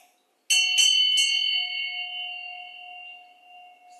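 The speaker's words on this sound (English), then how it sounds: "this is always accompanied with a bell." A ritual hand bell rung three quick times in a spiritual ceremony, then a long bright ringing tone slowly decaying, close and clear with no talking.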